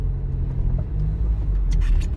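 Cars pull away from a traffic light on a city road, heard from inside a car during a driving test as a steady low engine rumble and road noise that swells slightly, with no talking.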